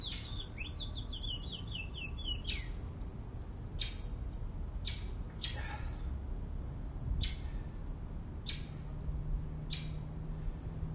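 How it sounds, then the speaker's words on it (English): A small bird chirps indoors in a series of sharp, separate chirps spaced roughly a second apart, with a quick run of rapid trills at the start, over a steady low room hum. "Got a bird chirping in here."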